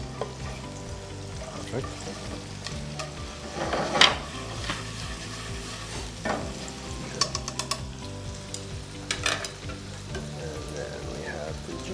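Scallions fry for a Thai red curry with duck, a soft steady sizzle under occasional utensil clinks and stirring, with a brief spoken word over it.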